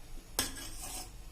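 Ghee stirred in a pressure cooker with a metal spoon, a single sharp scrape against the pot followed by a brief soft sizzle, close and without speech.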